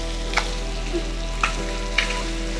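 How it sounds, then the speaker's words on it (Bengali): Spice paste frying in oil for a Bengali fish curry: a steady sizzling hiss with three or four scraping stirs of a spoon against the pan, close and clear, with no voices. "মশলাটা একটু এই তেলের মধ্যেই নাড়াচাড়া করে নেব।"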